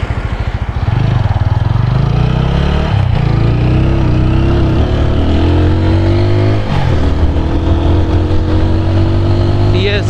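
A 2021 TVS Apache RTR 200 4V BS-6 motorcycle in sports riding mode, its single-cylinder engine and exhaust droning loud and close while riding, pitch rising and falling with throttle, with a rider talking over it.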